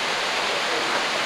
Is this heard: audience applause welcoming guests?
no